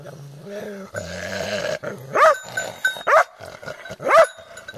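A dog growls and barks in short bursts, close by, with a few sharp yelps standing out over low background sounds, during a wild boar hunt.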